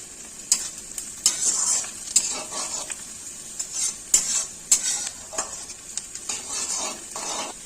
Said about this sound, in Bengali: এখন পেঁয়াজগুলো সুন্দর করে লাল লাল করে ভেজে নিচ্ছি।